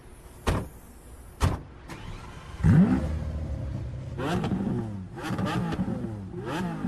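An old supercar rumbles to life after two sharp clunks, then its engine revs in rising, uneven bursts up close, loud and rough.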